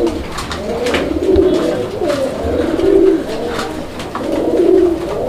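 Pigeons at a pigeon market coo in repeated throaty, rolling phrases, loud and close, with several birds overlapping in a steady rhythm and no talk.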